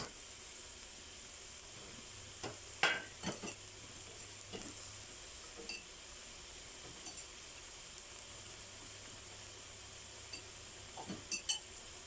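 Pineapple stir-frying with tomato and chili in a pan for a vegetarian dish, a quiet steady sizzle with occasional scrapes and stirring knocks, no talking.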